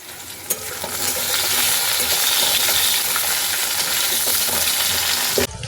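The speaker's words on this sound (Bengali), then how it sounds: "এদিকে তো মাছের ঝোলের জন্য আলুটা ভাজতে দিয়েছি" Potatoes for a fish curry fry in a pan with a steady, loud sizzle, with a few brief stirring clinks near the end.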